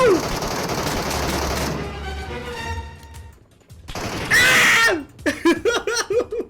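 Rapid gunfire from an air gun in the battle-royale game Metro Royale, with loud bursts of shots and broadband blasts across several seconds, under excited talk and laughter from players.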